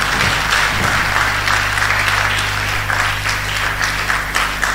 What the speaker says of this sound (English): Please, let's put our hands together. If you want to clap, let's clap.